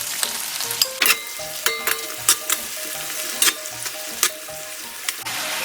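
Shishito peppers and soy sauce sizzle steadily in a hot pan with garlic, a continuous frying hiss broken by periodic scraping and clinks of stirring.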